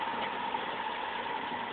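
An Opel Senator 3.0 24v C30SE inline-six runs on a test stand, a steady even hum at constant revs, close and uninterrupted with no speech over it.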